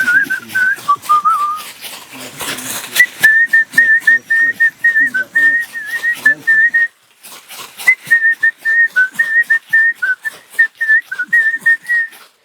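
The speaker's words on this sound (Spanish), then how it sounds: "ese silbo significa que estoy llamando al espíritu del chamán para poder limpiar" A person in an Amazonian Kichwa community whistles a ritual call to summon a shaman's spirit before a cleansing, a sustained steady tone repeated in long phrases with short breaks, close and fairly loud.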